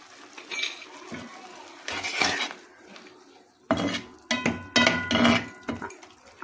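Chilies being stirred in a cooking pot with a metal spoon, several bursts of clanking and scraping against the pot separated by quieter pauses, close and fairly loud.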